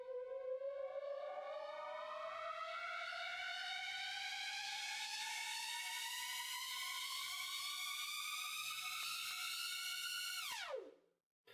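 Synth riser patch built in Massive: a bright harmonic tone climbs steadily in pitch for about ten seconds like a siren, then drops sharply and cuts out, loud and alone.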